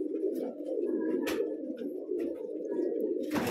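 Close, continuous low cooing from a pigeon of the pale Deobandi kind known as makoya or moti wala, a rolling throaty drone broken by a few short rustling bursts and clatters, without speech.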